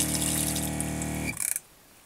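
Cold water driven by a pump runs into the sink of a Land Rover Dormobile camper conversion, a steady gushing stream with a whining pump hum that cuts off abruptly, leaving a few sputtering drips before quiet.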